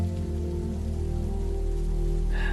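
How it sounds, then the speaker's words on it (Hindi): Steady rain patters on a surface, constant and close, over a low mechanical hum. "तेज बिजली चमकने लगी और मूसलाधार बारिश शुरू हो गई"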